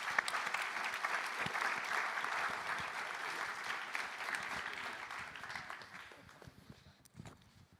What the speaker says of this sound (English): Can we get a huge round of applause for these gentlemen?